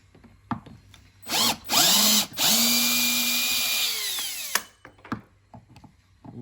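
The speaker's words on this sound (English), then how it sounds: "this is where the drill comes in handy" Power drill backs 2.5-inch screws out of a door while a Schlage BE365 electronic deadbolt is being installed: two short revving bursts, then a long whining spin that slows down, followed by small clicks and handling noises.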